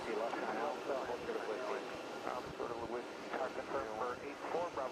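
A Swiss airliner jet at JFK airport rumbles in the distance as a steady broadband roar, with radio voices and nearby talk layered over it throughout.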